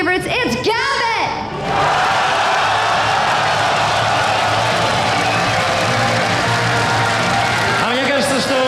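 Loud home crowd at a 2013 LCS EU Summer esports match cheers and applauds team Gambit, a dense sustained roar with whoops, with brief announcer speech at the start and end.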